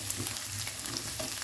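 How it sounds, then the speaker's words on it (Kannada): Chopped garlic and ginger fry in a pan over a medium flame with a soft, steady sizzle and faint crackle, heard close and without any voices. "ಮೀಡಿಯಂ ಫ್ಲೇಮಲ್ಲಿ ಫ್ರೈ ಮಾಡ್ತಾ ಇದ್ದೇನೆ ನಾನು"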